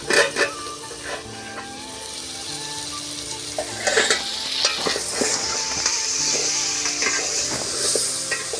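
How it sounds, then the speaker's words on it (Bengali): Steady sizzling of chicken frying in a pan, with occasional scraping and stirring clatter, close up and continuous. "মাংসটা ভালোভাবে ভাজা হয়ে গেছে"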